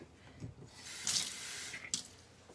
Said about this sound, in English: I'm going to add a little water to this.